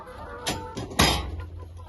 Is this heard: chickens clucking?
yes